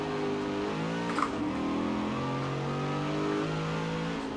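An American car on wide front race tires driving in Forza Horizon 4, its engine note holding a steady droning tone with shifting pitch, moderately loud and continuous with a small thump partway through.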